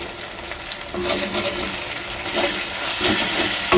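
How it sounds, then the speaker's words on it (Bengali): Spice paste with chili powder frying for a spicy egg curry, stirred with a spatula; a quiet start gives way to a loud, swelling sizzle with rustling stirs that builds toward the end. "এবার আমি খুঁটির সাহায্যে আরও একবার খুব ভালো করে নেড়ে চেড়ে মিশিয়ে নিচ্ছি"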